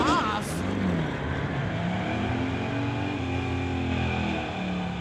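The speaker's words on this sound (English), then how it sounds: "There's Mark spooling up that big bad diesel" A GMC Sierra diesel truck launches at a street-legal drag race, its big engine roaring loud and steady through the full run, with a few rising whistle-like tones on top and a commentator's voice faintly underneath.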